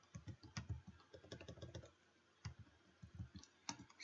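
Rapid computer keyboard typing of a terminal command while setting the IP on an Ubuntu Server in VirtualBox, close and clear, as a quick burst of clicky keystrokes, a short pause, then another run of keys.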